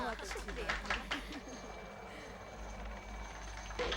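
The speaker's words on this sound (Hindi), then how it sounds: "रिहायशी इलाकों के ऊपर हेलीकॉप्टर उड़ाना बैन कर देना चाहिए।" A helicopter flies low over a residential area in Miami, its rotor thudding and droning close and loud under overlapping speech.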